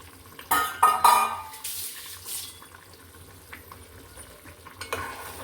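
A spoon scrapes and stirs thick sajje (pearl millet) upma in a pan, with a few loud clattering strokes early on, then softer intermittent scraping and a final sharper knock, close and without speech.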